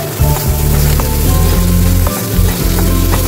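Ginger and garlic paste fries in a pan with a loud, close, continuous sizzle and some low scraping stir noises, and no one talks.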